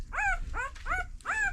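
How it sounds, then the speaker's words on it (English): A newborn puppy on a farm whimpers in four quick, high, wavering cries, close and fairly loud, with short pauses between them. "He's a loud puppy."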